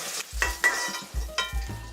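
Eggs frying in hot oil for an egg dal dish, a steady soft sizzle broken by several short scraping stirs of a spatula in the pan, close and fairly quiet.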